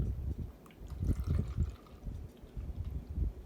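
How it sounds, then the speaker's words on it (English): Homemade hand sanitizer mixture poured into a container, giving soft liquid gurgles and trickles in uneven bursts close by, with no one talking. "we're going to pour this in"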